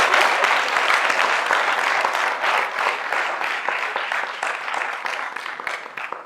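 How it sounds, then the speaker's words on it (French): Sustained applause from a live café-show audience, dense clapping that stays loud and steady for several seconds before easing slightly toward the end. "On va l'applaudir."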